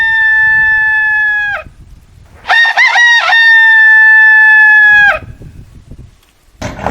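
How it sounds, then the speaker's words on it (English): A rooster crows loudly and close by in two long, drawn-out cock-a-doodle-doo calls separated by a short pause, with a brief start of another call at the end and no talking. "rooster,"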